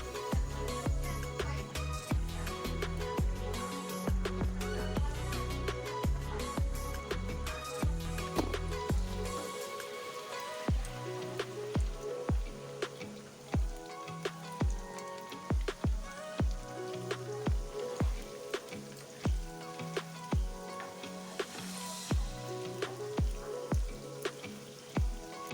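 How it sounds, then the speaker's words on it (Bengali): Chicken pieces frying in oil for manchurian, a dense crackling sizzle under steady music, with rhythmic taps and spatters through the second half. "সব মাংসগুলো আমি এভাবেই ভেজে নেব"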